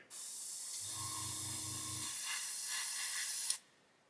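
Steady close hiss of an airbrush spraying paint onto a 1/32 scale Fokker E.IV model for about three seconds, with a faint mechanical hum underneath, cutting off abruptly.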